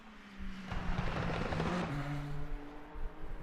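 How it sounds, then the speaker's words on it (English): Race car engines roar in the Le Mans Ultimate sim racing game, a steady droning whine with shifting pitch and a rise through mid-range as cars run through a corner, fairly loud and continuous without talk. "Engine sounds are great in this game."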